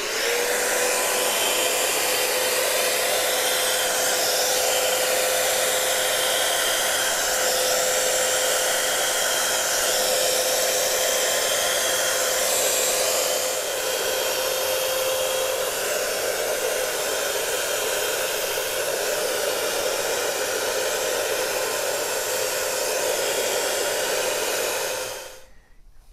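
BigBoi XtractR Mini, a small portable carpet cleaner, running and suctioning with a steady, loud, hissing motor whine for about 25 seconds before cutting off abruptly at the end. No one speaks.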